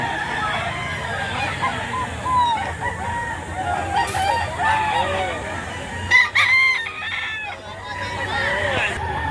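Rooster crowing at a chicken market in Lipa City, Batangas, several crows rising out of a busy background of clucking fowl and people talking nearby.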